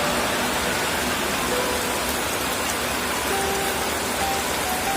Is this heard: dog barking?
no